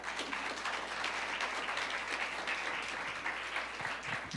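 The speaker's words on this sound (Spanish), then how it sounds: "Dale un aplauso al Señor." Congregation applauding during a sermon, a continuous dense patter of many hands clapping at moderate volume with no voices over it.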